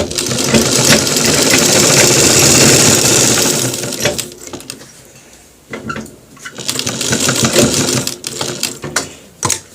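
Sewing machine stitching a bone pocket on a coat, a loud close rapid mechanical whirr running steadily for several seconds, then short stop-start bursts of stitching with pauses between.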